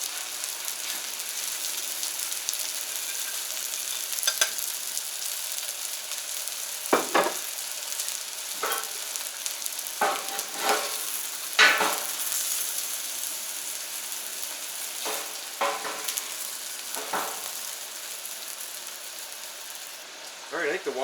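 Onion smash burgers sizzle steadily on a Camp Chef FTG600 flat top grill outdoors in record cold of -23F, a continuous close frying hiss broken by several short scraping clatters, with no talking.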